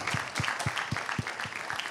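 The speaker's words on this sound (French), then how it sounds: "On peut vous applaudir pour cette table ronde." Seated conference attendees at a solar energy event applaud a round table, giving a brief burst of steady, moderately loud clapping with distinct hand claps.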